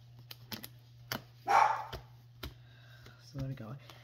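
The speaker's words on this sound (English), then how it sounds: "Sorry about the dog barking." A dog barks indoors at home, a few short sharp barks scattered among clicks and a steady hum, with a person speaking nearby.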